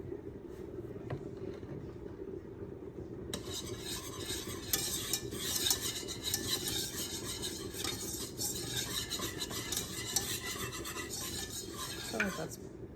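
Two tablespoons of flour cooking in a pot for chicken gravy, a soft continuous sizzle that brightens partway through, with spoon scraping and stirring on top, close and steady without speech.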